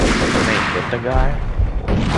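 Dense, loud gunfire from the shooter game Max Payne, with rapid overlapping shots and echoing booms running through the whole stretch while a voice talks briefly underneath.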